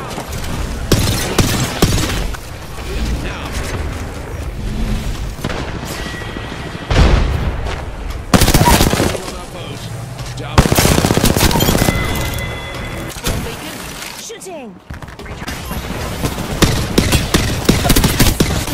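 Rapid bursts of gunfire and booming blasts in an Apex Legends match, loud and dense with sharp volleys across the whole stretch and a brief drop near the end.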